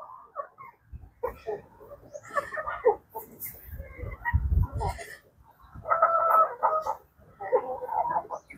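Crossbred chickens cluck and squawk in a series of bursts, with a drawn-out crowing call near the end, fairly close with some background noise.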